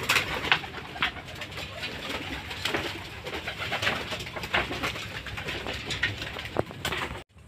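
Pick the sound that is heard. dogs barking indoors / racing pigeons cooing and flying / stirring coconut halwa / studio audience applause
racing pigeons cooing and flying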